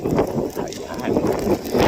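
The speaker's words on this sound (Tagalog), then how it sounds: "Rinig nyo ang tunog ng hangin" Wind gusting over open grassland on a foggy day on Tablas Island, Romblon, a rough low rumble buffeting the microphone in waves, steady and fairly loud with no clear voices.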